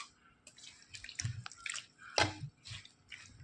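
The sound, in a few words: water poured into mango curry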